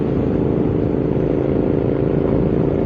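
A Royal Enfield Interceptor 650 motorcycle cruises at about 60 mph, a steady loud engine drone mixed with rushing wind, no talking.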